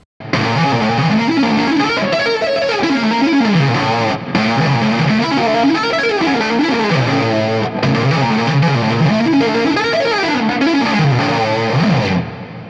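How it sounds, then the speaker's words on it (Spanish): Electric guitar played through distortion runs repeated rising and falling note patterns across octaves, loud and continuous with a couple of brief breaks between phrases. "si a esto le agregamos distorsión."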